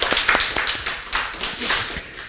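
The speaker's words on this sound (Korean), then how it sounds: "우리 환영의 박수 한번 하겠습니다." A church congregation claps in welcome, brief uneven bursts of clapping, close and fairly loud, with no talking over it.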